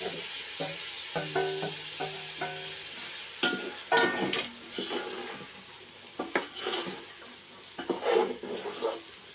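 Chopped tomatoes are added to a pan for veg pulao and stirred in, with a continuous moderate sizzle, clattering scrapes of a spoon and a few sharper knocks, and soft tonal kitchen sounds early on.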